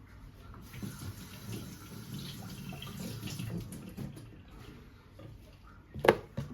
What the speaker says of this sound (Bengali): কাটার আগে একটু ধুয়ে নিই